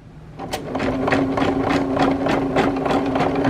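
A sewing machine starts up and stitches with a steady mechanical hum. Its rapid, evenly spaced needle beats are close and fairly loud, and the sound builds slightly as it gets going.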